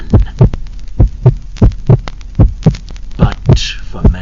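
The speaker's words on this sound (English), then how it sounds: "But for many minutes the heart beat on, with a muffled sound." A muffled heartbeat sound effect thumps loudly and close in a steady double-beat rhythm, about a dozen low, dull pulses with no other sound.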